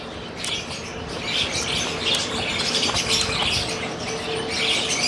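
Pet lovebirds chirp and twitter in repeated, busy bursts at moderate distance, with a light rustle of wings and outdoor ambience beneath.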